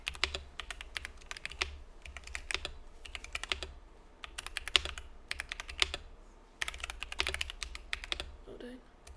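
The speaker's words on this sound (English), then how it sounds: "Typing test time?" Rapid clacky typing on a newly built LK67 mechanical keyboard, bursts of keystrokes broken by brief pauses, close and fairly loud, with faint talk in the background.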